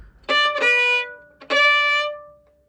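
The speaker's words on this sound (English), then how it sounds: "having the string crash or the bow crash onto the strings" Two harsh, scratchy violin bow strokes, each starting with a rough crunch before settling into a bright sustained tone, played close with a short gap between.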